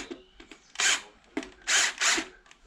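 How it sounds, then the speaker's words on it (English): A battery drill drives a big screw into a motorbike tyre in short bursts, three loud whirring pulses of the motor separated by quieter clicks and pauses. "Okay, so I've got battery drill and a big screw."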